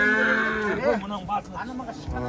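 A cow that has calved five times lets out a long, close, drawn-out moo at a busy livestock bazaar, with brief lower lowing sounds following amid faint background murmur.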